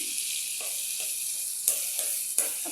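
Dried pressed fish hitting hot oil in a wok gives a steady bright sizzle, with a few sharper spits and crackles breaking through as the pieces settle.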